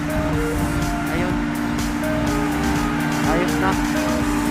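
A chiller fan motor runs continuously after its wiring was swapped to correct reversed rotation, producing a steady whirring drone with tonal hum, while people talk over it.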